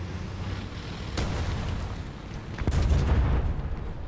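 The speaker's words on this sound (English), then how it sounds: "this is gonna be one hell of a fucking bomb" A deep explosive boom bursts out, followed moments later by a heavier blast and rumbling aftermath, from a bomb dropped on a tank in War Thunder; no voices over it.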